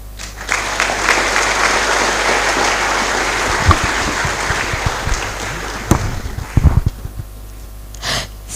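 Loud, dense applause from an audience at a college of engineering freshmen orientation, a steady wash of clapping lasting several seconds for a professor, tapering with a few scattered claps near the end.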